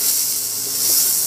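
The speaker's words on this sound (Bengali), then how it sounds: "আমটা দেখুন ভাজা ভাজা হয়ে এসছে প্রায়।" Raw mango pieces fry in a pan with a continuous bright hiss of sizzling oil, steady and fairly close, with no voices.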